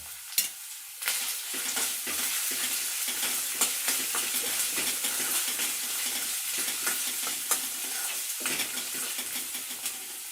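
Cabbage fries in a pan with salt, a close, continuous sizzle with frequent scraping stir strokes and brief dips where the spatula lifts.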